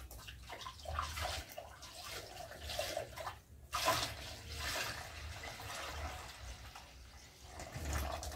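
Liquid fertilizer (JADAM liquid fertilizer) pours and splashes from a bucket into a container, a steady watery gush with brief surges, close by with no talk.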